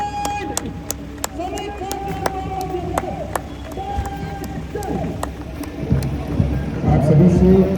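Audience clapping at a Republic Day parade in the Nainital hills, a steady patter of claps that swells toward the end, heard under loud talk over a public address.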